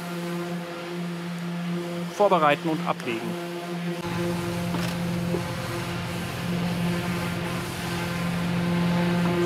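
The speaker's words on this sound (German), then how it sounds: "Ich werde jetzt die Maschine starten und dann den Motor vorwärts einkuppeln" A boat's inboard engine starts at a shipyard about midway through and then runs steadily with a low, even rumble. Someone speaks briefly before it fires up.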